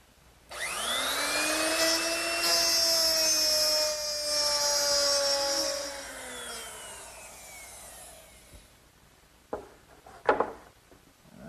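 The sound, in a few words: router plowing grooves in wood with 1/2-inch mortising bit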